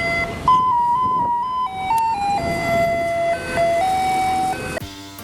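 A garbage truck in the street plays a loud, stepping electronic melody of sustained tones, close by, ending with a brief clatter.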